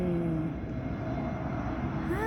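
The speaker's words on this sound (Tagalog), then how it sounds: "may pababang eroplano" A fixed-wing airplane descends to land near an airport, its engines producing a steady, continuous drone at moderate distance with a faint rising whine toward the end.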